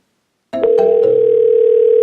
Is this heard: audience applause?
no